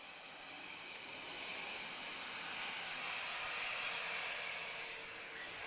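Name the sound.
aircraft pushing back at Lisbon Airport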